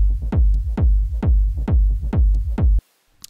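Heavy techno low end, a pounding kick drum with deep bass in a steady driving pulse, loud and dry with no high-end elements, cutting off abruptly near the end.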